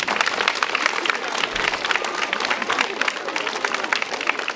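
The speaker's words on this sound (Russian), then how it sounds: "Аплодисменты." Steady, dense applause from a crowd at a school graduation ceremony, many hands clapping together continuously at a fairly loud level throughout.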